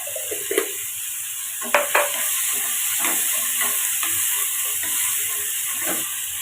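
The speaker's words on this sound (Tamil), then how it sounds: "இது ஒரு வத்தல் இதே வதக்கி விட்டுக்கலாம்" A dried red chili sautés in a pan for tomato chutney, a soft sizzle and hiss running steadily while a utensil stirs and scrapes in a few sharp clicks and knocks, fairly close.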